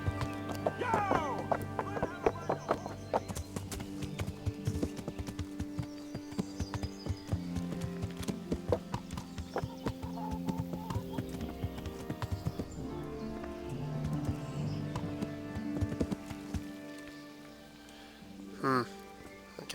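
Horse hooves clip-clopping in the video game Kingdom Come Deliverance, rhythmic thuds under music and ambient game sound, with a whinny near the end and someone talking over parts.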